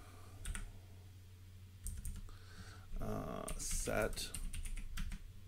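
Someone types on a computer keyboard while configuring VyOS router software in VirtualBox, producing clusters of quick, close key clicks separated by short pauses. A brief spoken word is heard.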